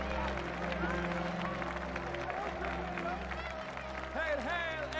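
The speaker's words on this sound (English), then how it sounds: "They're clapping for no reason." Crowd clapping in a House of the Dragon scene, dense applause and crowd noise throughout, with voices talking over it and music underneath.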